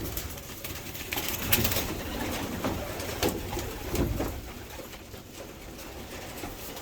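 Several racing pigeons cooing softly in a low, repeated murmur, with occasional faint rustles and a soft background hiss.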